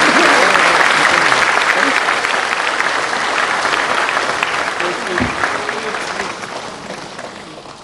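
Loud, sustained applause from a large audience at a national water awards ceremony, greeting the President. The clapping is dense and continuous, fading slightly toward the end.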